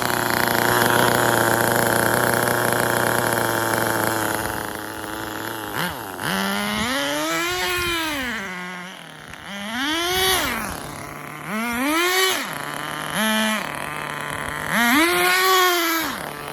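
Nitro RC car with a new engine revving loudly nearby, a high buzzing idle giving way to four repeated rising and falling throttle blips, heard alone.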